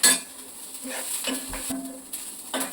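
Onions being stirred in a pan as they fry until lightly crispy, with close scraping and utensil clinks over a faint, low sizzle in a short burst.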